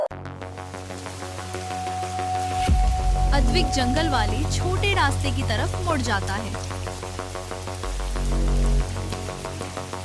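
Heavy rain pours down steadily after a sharp onset, a dense continuous hiss that builds louder toward the end, while a voice talks over it and background music plays along.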